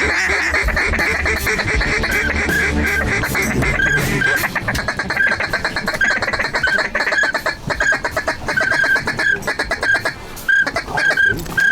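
Mallard ducks quack loudly and constantly during a Louisiana duck hunt, many calls overlapping in raucous bursts over a busy outdoor background.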